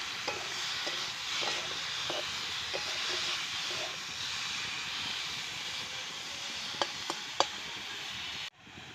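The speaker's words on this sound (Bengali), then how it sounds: "এবার দেব চিংড়ি মাছটা, একদম কুচো চিংড়ি, একটু হালকা ভেজে নিয়ে একসঙ্গে বসিয়ে দেব।" Tiny prawns sizzling in hot oil in a pan while cooking with bottle gourd, a steady bright hiss with a few faint ticks and pops, close, ending abruptly.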